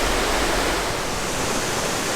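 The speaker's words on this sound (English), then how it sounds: "I do know that this waterfall is absolutely gorgeous." Potawatomi Falls on the Black River in Porcupine Mountains State Park, Michigan's Upper Peninsula, running at low seasonal water, gives a steady, loud, close rushing roar with no voices.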